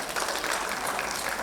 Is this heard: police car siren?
no